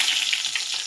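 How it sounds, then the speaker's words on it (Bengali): A short, bright crackling sizzle as nigella seeds and dried red chillies hit hot oil in a kadai, loud and close with no voices. "কড়াইতে তেল গরম হয়ে গেছে, এর মধ্যে দেবো একটু কালো জিরা ফোড়ন, একটু শুকনো লঙ্কা ফোড়ন"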